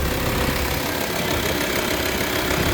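VW Touareg 2.5 TDI diesel engine idling with the turbo and power steering running, a steady broadband mechanical rumble and hiss at close range, unchanging throughout.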